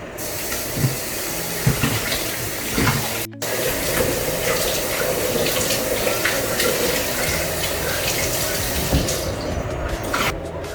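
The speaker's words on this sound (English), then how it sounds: "I will make sure I wash it. It's it has opener, but I will wash it before I pour it inside container." Tap water runs steadily and loudly into a sink, a continuous hissing splash with small clanks as a palm cream tin is washed, briefly cut off once and easing near the end.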